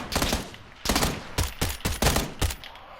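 Rapid automatic gunfire from an M762 rifle in PUBG on PS4, several sharp bursts in quick succession, loud and close, with short gaps between the bursts and no speech over them.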